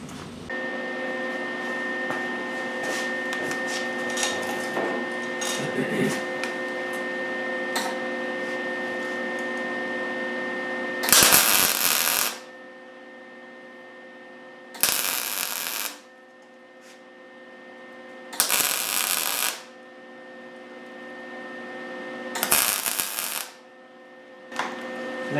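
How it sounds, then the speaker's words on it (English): Four short, loud crackling bursts of tack welding on a thin sheet-metal door patch for a 1929 Ford coupe build, spaced a few seconds apart over a steady humming background. "I just go through and tack it, because if you just try to run a bead along there, the thin metal just melts"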